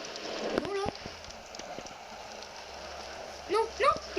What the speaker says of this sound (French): C'est parce qu'il pleut.